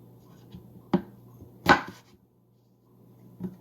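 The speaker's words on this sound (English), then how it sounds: "Take a knife and cut the potatoes into quarterly pieces, something like this" A knife cuts potatoes into quarters for cottage pie, giving a few separate sharp chopping knocks on a board, one stronger than the rest, with quiet pauses between.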